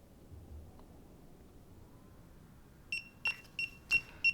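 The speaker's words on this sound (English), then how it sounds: "press and hold the power button for a couple of seconds until it beeps," DJI Goggles 3 sounding a series of five short, bright beeps in an even rhythm after the power button is held, close and clear over a quiet room background.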